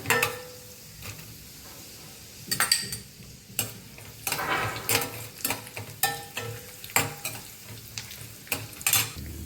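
Pumpkin seeds fry in a pan with a low, steady sizzle, broken by repeated scraping and clinking as a utensil stirs them against the metal, close and without speech.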